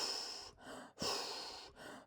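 Deliberate, exaggerated breathing for a respiratory rate demonstration, with two loud airy breaths in close succession and a third starting at the end, each a rushing exhale-like hiss separated by brief pauses.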